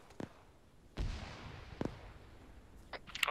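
Distant gunfire in a military video game: a few muffled booming shots spaced irregularly and faint against quiet background, with small clicks near the end.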